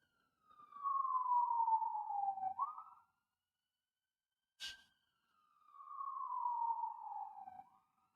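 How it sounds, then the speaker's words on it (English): Ambulance sirens passing on a city street at night, two long descending wails separated by a short sharp noise, moderately distant and heard alone. "I've got so many ambulances that are coming by."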